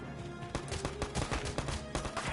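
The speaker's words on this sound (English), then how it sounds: "You're just going to shoot and kill somebody." Gunshots in Valkyria Chronicles 4 during a training exercise: a rapid string of sharp, loud rifle cracks, roughly a dozen in irregular bursts, heard without talk.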